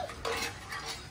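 Dishes being scrubbed by hand, with close, brief scraping and clinking of utensils in a few quick strokes, fairly quiet and with no talking.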